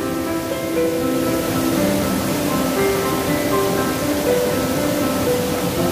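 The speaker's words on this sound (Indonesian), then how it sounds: "itu air terjunnya" A steady, full roar of water falling at Sarasah Kayu Jao waterfall rushes on without pause, dense and close.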